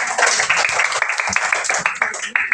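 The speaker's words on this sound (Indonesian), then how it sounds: "Tepuk tangan dulu untuk kita semua." Students in a classroom during an economics lesson give a burst of dense, close applause that lasts a couple of seconds, with voices mixed in.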